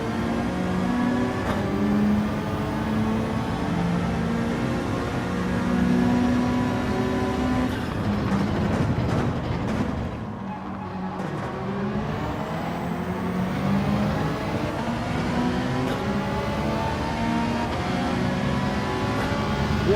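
A racing car in Gran Turismo 7 on the Red Bull Ring holds a loud, steady engine drone that rises and falls in pitch through the gears, with a brief dip midway before it climbs again.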